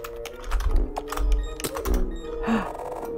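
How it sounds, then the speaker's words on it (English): Keyboard typing in the Roblox game Traitor, a quick run of close clicking keystrokes with a few heavier thunks, clear and fairly loud. "I hear someone typing"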